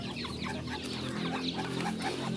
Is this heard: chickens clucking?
yes